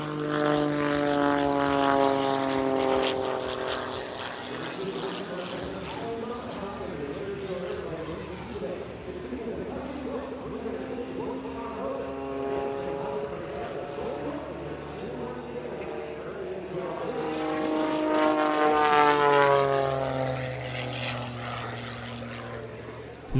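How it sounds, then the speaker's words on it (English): A highly modified de Havilland Super Chipmunk propeller plane performs aerobatics at an airshow, its engine droning and rising and falling in pitch as it passes, loud near the start and again toward the end, with continuous commentary over it. "a highly modified de Havilland Super Chipmunk"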